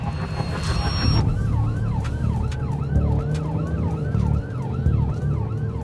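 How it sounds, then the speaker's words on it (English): Wailing ambulance siren cycling up and down repeatedly over a low rumbling engine, loud and close, responding to a head-on collision. "We're coming to you as quickly as we can on lights and sirens"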